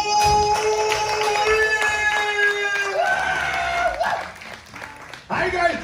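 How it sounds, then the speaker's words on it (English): An audience at a Universal Orlando Horror Make-Up Show applauds and cheers for the show's host, a loud burst of clapping with shouts that fades briefly before swelling again near the end. "how about a nice round of applause for the host of today's show"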